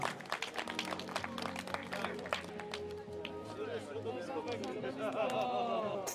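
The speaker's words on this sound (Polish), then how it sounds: "Brawa!" Crowd applause and cheering for the winner of a one-on-one medieval combat tournament, with steady clapping mixed with loud chatter and shouts from nearby spectators throughout.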